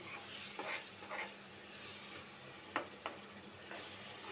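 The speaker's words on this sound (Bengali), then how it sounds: "ওকে বন্ধুরা, মশলাটা 5 মিনিট কষায় নি।" Garlic, turmeric and red chili spice paste frying in a pan, a soft steady sizzle with a few sharp scraping stirs, fairly quiet and close, without speech.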